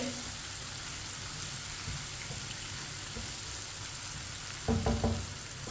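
Tomatoes for chana dal fry quietly in a pan with a soft, steady sizzle, then a brief spoon clatter against the pan near the end.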